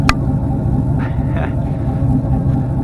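An LS-swapped Jeep Cherokee engine idles through a small bullet-style rattler muffler, a loud, deep, continuous rumbling exhaust with a steady throb close by.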